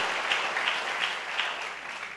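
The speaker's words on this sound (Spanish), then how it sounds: "Dele palmas al Señor de la gloria." A church congregation claps steadily throughout, dense continuous applause with a few sharper claps standing out, fairly loud and close, with no talking.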